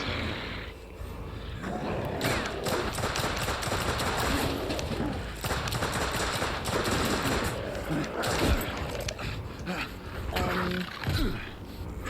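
Gunfire in The Order 1886 video game: dense, rapid bursts of shots crackling almost continuously for about twelve seconds, loud and close, with people talking over the shooting.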